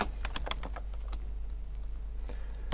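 Quick keystrokes on a computer keyboard come in a brief burst of close clicks, then pause, then come a couple more taps, all without talk.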